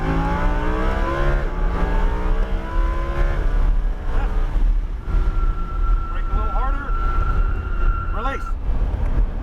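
A Lamborghini Huracan LP 610-4 accelerates on a raceway track, its engine droning loudly from inside the cabin with rising and shifting pitch, steady and close, with a voice talking over it.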